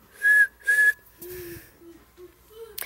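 Two short, high whistled notes, then a few lower sustained whistle tones, a person whistling to imitate a train whistle, close and fairly loud.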